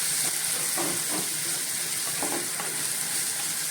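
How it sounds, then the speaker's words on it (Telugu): Onions and garlic sizzle steadily in a hot pan with a few soft scraping stirs, a continuous frying hiss throughout. "ఆనియన్స్ ఫ్రై అయినాయి"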